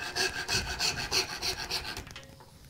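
A handmade turning saw cuts off a small chunk of wood, giving steady rhythmic rasping strokes, about six close pushes in quick succession, ending in a quieter scrape as the piece comes free.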